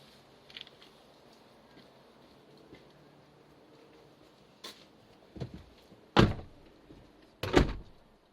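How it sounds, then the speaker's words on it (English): Several car doors on a Nissan Patrol Y62 shut one after another, a few solid thunks growing louder near the end after a quiet stretch. "I might close the doors."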